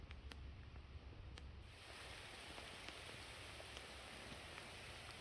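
Rain falling steadily during a thunderstorm at an outdoor rockhounding spot, a dense, even hiss with a few sharper drop ticks early on, close and continuous, with no talk.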